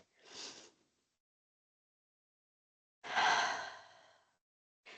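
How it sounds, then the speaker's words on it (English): Two audible breaths during a power yoga flow, a short exhale then a longer, fuller sigh-like deep breath, close and clear with silence between. "Deep breath."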